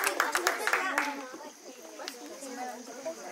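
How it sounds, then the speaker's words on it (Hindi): Children clapping at a school teacher farewell function, a quick burst of claps at the start fading into indoor chatter, with an adult voice speaking over it. "ताली बजाते हैं बच्चे, ताली बजाते हैं।"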